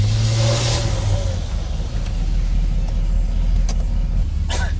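A car engine turns over and settles into a steady idle, a low continuous hum with a few faint clicks and knocks near the end.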